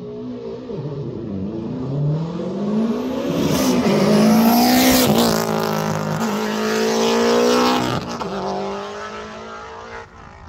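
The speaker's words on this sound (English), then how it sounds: "a nice looking time attacking Scooby coming up" Subaru Impreza time attack car climbing the Coronet Peak hillclimb, engine revving hard through several gear changes as it approaches and passes, loud and close before fading away.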